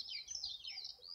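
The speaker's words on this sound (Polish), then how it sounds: "Więc i skowronki, i słowiki, i wszystko inne, co potrafi ćwierkać, świergotać i cieszyć się z tej przecudnej pory roku." Small garden birds, including larks and nightingales, chirp and twitter in quick, high, overlapping calls, faint and steady against a quiet outdoor background.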